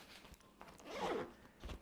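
A zipper on a Tenba Solstice 24L camera backpack is pulled open in one quick, close rasping stroke, with a short tug at the end.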